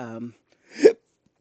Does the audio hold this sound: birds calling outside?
no